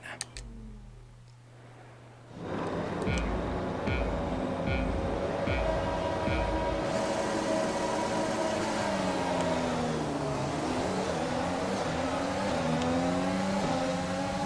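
F1 race cars in a video game race at COTA, the American Grand Prix, roar together off the start, a dense, loud engine drone that builds and shifts pitch as the field accelerates, with no talk.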